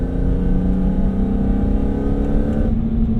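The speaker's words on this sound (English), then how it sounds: "the E46 M3 already has a great induction noise" A BMW E46 M3 with SMG gearbox gives a steady, loud engine drone with a raspy intake tone, holding a constant pitch before shifting slightly near the end.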